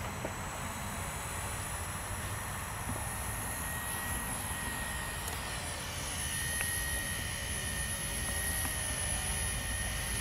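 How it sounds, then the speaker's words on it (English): A Walkera V120D05 flybarless RC helicopter spools up and lifts off, its small rotor and motor giving a steady, high whining hum with a constant buzzing drone throughout, heard close and alone. "So we spool them back up. All right, let's go for a takeoff."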